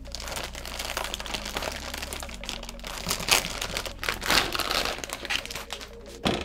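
Extra papers and warranty paperwork from a Ryzen 9 3900X PC build box being handled indoors, with continuous close crinkling and rustling and a few louder crumples.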